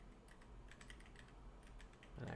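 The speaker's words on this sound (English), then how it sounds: "Let me finish typing." Typing on a computer keyboard, quick irregular clicks of keys pressed at a close distance, ending in a slightly louder rustle.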